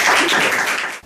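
A studio audience at a Korean TV talk show gives dense, continuous applause, loud and close. It fades sharply in the final moment.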